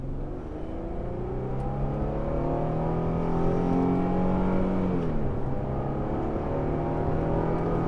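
An Infiniti G35 with a 5-speed automatic in manual mode revs steadily upward in first gear, its pitch climbing, dipping briefly, then holding a loud, continuous drone.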